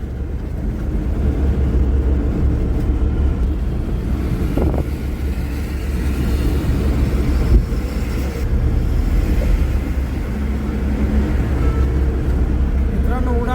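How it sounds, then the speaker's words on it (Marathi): A car drives across a flyover bridge over the Godavari river, its engine and road noise a steady close rumble with wind roar, continuous and even for the whole stretch. "मित्रांनो, उड्डाण पुलावरून गाडी चालवायला जरा वेगळीच मजा येते"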